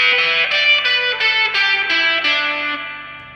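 Distorted electric guitar plays a quick descending run in a witchcraft rock riff, with effects-laden sustained notes picked in a steady rhythm, loud and alone before fading out at the end.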